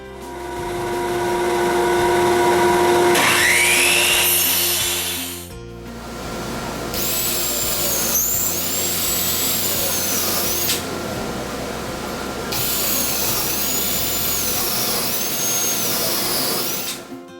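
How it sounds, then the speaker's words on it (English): A power tool whines loudly, then revs through several cutting bursts with high-pitched screeching, steady and close, with brief drops between passes, cutting stair nosing pieces. "Measure and cut each nosing piece."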